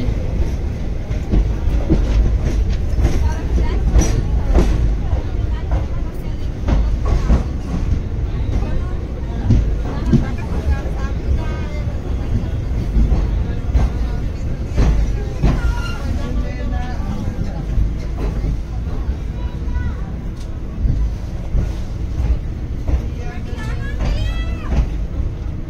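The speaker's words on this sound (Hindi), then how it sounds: "अब आप लोग को इंडियन रेल दिखाएंगे" An Indian Railways train passing close by, a continuous loud rumble with rhythmic clickety-clack of wheels on rails, while people talk over it.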